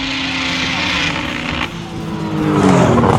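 A race car accelerates hard at a roll racing event, its engine a loud, steady drone that climbs in pitch and seems to falter slightly near the top end.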